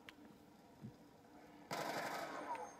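Galil rifle fire in a Call of Duty Zombies game: a sudden sustained burst of rapid automatic gunfire starts partway through and continues to the end, following a quieter stretch of game ambience.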